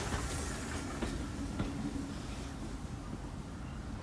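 A model railway branch-line train hauled by a small GWR tank engine runs along, producing a faint, steady rolling rumble with light rhythmic clicks from the wheels over rail joints.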